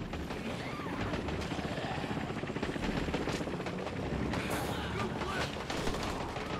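A video game helicopter's rotor thumps in a steady, rapid chop throughout, loud and continuous as if hovering nearby, in Dead Rising 4.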